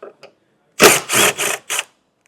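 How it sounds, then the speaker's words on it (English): Removal of 3/16 hex bolts at the rear hatch of a 2019 Honda Odyssey, heard as four close, rapid buzzing bursts in quick succession after a couple of faint clicks. "we need to remove 2 bolts on both sides. These are 3/16 hex bolts, so get those removed."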